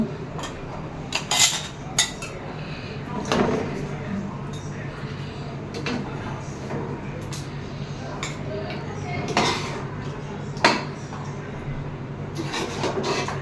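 A spoon scrapes and clinks against dishes as tender beef curry is served, with scattered sharp taps over a steady background hum.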